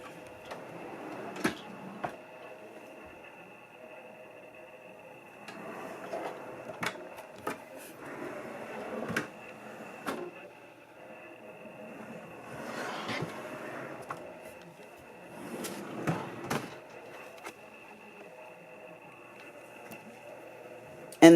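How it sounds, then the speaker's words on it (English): Deep drawers in a redesigned craft scrap room slide open and shut several times, giving soft rolling rumbles and light knocks, with a steady hum underneath. "How long these drawers come out."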